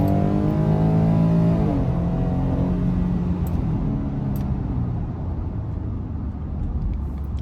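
A high-mileage 2021 Ford F-150 with the 3.5-litre EcoBoost pulls hard in second gear at full throttle, its engine drone rising, then shifting and settling into a steady roar heard from inside the cab.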